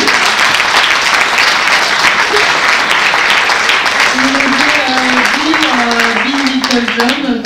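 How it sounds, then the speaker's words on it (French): A conference audience applauds the speakers with steady, dense clapping throughout, while a person talks over the applause toward the end. "merci, vous pouvez les applaudir"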